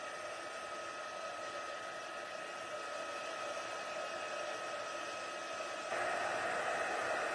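Heat gun blowing hot air to melt embossing powder during card-making, a steady close whooshing hiss throughout that gets slightly louder near the end.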